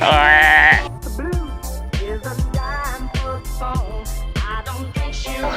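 Sheep at a sheep farm in Nakhon Nayok, Thailand, let out a loud drawn-out bleat near the start, then someone talks steadily over the rest while faint animal sounds continue beneath.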